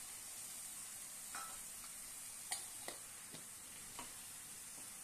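Green chillies and chopped tomato fry for fish curry in hot oil, giving a faint, steady sizzle with a few soft stirring scrapes and ticks.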